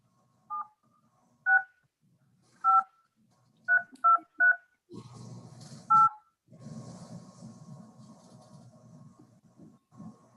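Telephone keypad dial tones: about eight short, evenly spaced DTMF beeps, clear and close, followed by a longer tone and a steady line hiss, with no voice over them.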